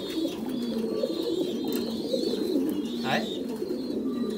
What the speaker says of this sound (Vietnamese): Những cái cặp chim bồ câu mà đang vào đẻ hoặc là đang sang con á